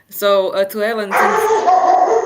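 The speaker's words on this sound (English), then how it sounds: "I don't know if you hear my dog barking." A pet dog barks and yips at home during an online meeting, a few sharp close barks breaking over a person talking.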